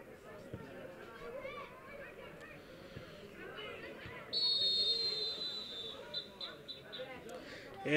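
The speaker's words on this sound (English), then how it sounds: "the whistle blows to end the first half" A referee's whistle ends the first half of a girls high school soccer game: one sustained shrill blast and a few short ones over crowd chatter and babble.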